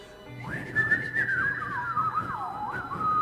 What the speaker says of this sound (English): whistling a little tune